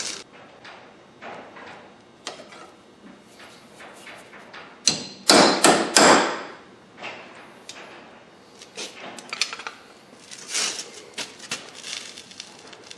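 A hammer strikes a center punch into metal while making a homemade battery cable terminal, a series of sharp taps at uneven spacing with a few louder heavy blows in the middle, close by and without talk.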